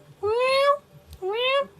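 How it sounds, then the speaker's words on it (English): A hungry cat on a film set gives two loud, drawn-out meows close by, one after the other with a short pause between. "Cut! Cat on the set! Hungry cat on the set!"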